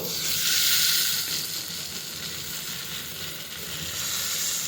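Taro flowers fry in a pan with a close, continuous sizzle that swells and eases slightly, with faint stirring underneath and no talking.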